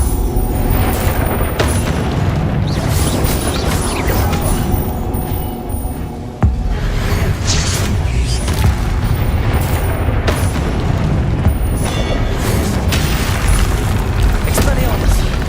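Fiery blasts of the Confringo explosive spell in Hogwarts Legacy, loud booming bursts repeating amid chaotic combat noise, with a voice calling out over the action.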